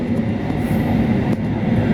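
Train at Cikampek station in Indonesia, a steady loud low rumble of rolling stock filling the whole stretch with no clear breaks, heard close by.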